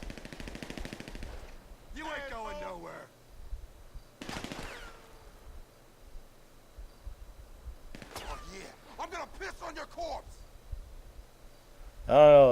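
Automatic gunfire rattles in bursts during a GTA V gang attack at an abandoned motel in Sandy Shores. Someone talks between and over the shots, and a loud burst of fire closes it.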